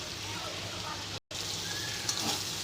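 Shrimp frying in oil in a sunlit kitchen wok with salt, turmeric and slit chillies, a soft, even crackling sizzle throughout, briefly cut to silence, with a few sharper spits near the end.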